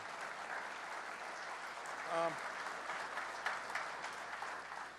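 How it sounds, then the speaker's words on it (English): Audience applause at a gathering with the governor in Buffalo for Brianna and Ellen, steady and moderately distant, with a voice briefly rising over the clapping partway through. "Give one more round of applause for Brianna"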